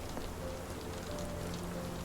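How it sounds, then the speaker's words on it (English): Steady indoor rain pattering on surfaces inside a room in the Sherlock Holmes: The Awakened video game, a continuous even hiss of drops with no voices. "Wait, is it raining in here?"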